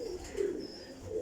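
Teddy pigeons at a breeding loft give close, steady cooing, a few low rolling phrases following one another with no talk over them.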